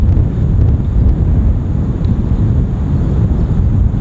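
Steady, loud wind buffets the microphone on an open golf course, a continuous low roaring rumble with no pauses and no voices.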